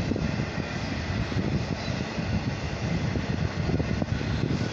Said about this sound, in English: It's gotta be like a 2 mile long, 2 mile long train.